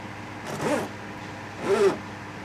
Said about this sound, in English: This is a Vivasun zipper.